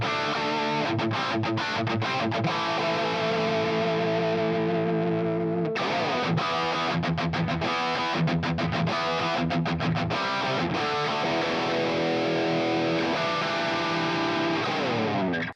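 Electric guitar played through a Line 6 Helix amp simulation with distortion, loud and saturated chords and riffs ringing continuously, with brief stops and restarts between phrases.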